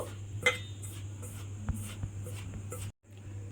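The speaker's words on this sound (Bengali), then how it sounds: "এবারে এই বেসন আর চালের গুঁড়িটা আমি খুব ভালোভাবে মিশিয়ে নেব।" Gram flour and rice flour being mixed in a bowl, soft rhythmic scraping and stirring strokes with a few light clinks of utensil against the bowl, quiet and close, ending in a brief pause.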